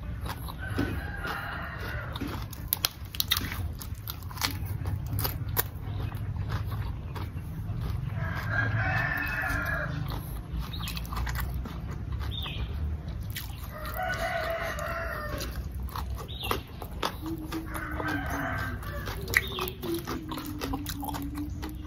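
A rooster crows repeatedly behind a house in rural Thailand while chickens cluck close by. Birds chirp against a steady background hum, with no talking.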